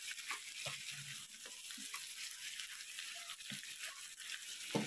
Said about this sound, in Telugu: ఈ మసాలా చెమ్మంతా బాగా వెళ్ళిపోయి పొడి పొడిగా వచ్చే వరకు బాగా కలుపుతూ ఉండాలి.